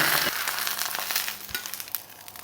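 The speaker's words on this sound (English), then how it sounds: "I'm not looking to cook these. I just want to sear them." Food sears in a hot pan for a vegan Caesar dish, a close, bright crackling sizzle that starts loud and eases into scattered pops and spits.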